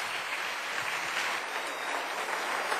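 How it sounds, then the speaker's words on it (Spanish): Congregation in a church breaks into steady, dense applause, a continuous wash of many hands clapping at once, fairly loud and unbroken through the moment. "Démosle un aplauso al Rey bendito."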